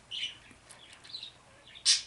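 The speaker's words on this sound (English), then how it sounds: "my little birds are having fun." Pet birds indoors chirping in short bright bursts, several quick tweets scattered across a couple of seconds and a louder chirp near the end, close by with no talking.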